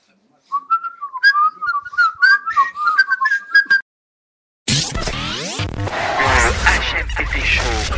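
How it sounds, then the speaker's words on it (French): A person whistles a quick, bouncy tune of short chirping notes for about three seconds, alone and fairly close, followed by a pause and then a burst of loud, noisy sound. "Alors on siffle."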